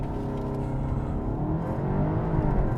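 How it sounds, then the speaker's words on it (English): A Volkswagen Arteon Shooting Brake R-Line engine revs hard at launch and pulls under full acceleration from a standstill, heard as a steady, loud, rising drone from inside the car with no voices. "we floor the brake, floor the accelerator"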